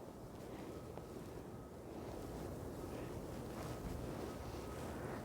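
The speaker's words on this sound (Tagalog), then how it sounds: "Ang lakas ng hangin." Gusting wind during a New York snowstorm while walking outdoors, a faint steady rushing roar with low rumbling microphone buffeting throughout.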